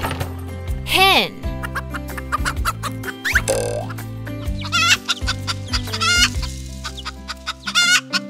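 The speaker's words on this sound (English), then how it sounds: "Hen." A hen clucks in quick, choppy bursts over cheerful background music, with a short rooster-like call near the start.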